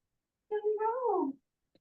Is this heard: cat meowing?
yes